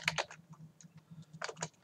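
Computer keyboard typing code for a Unity game script: a few quick bursts of crisp key clicks separated by short pauses, close and clear over a faint steady background hum.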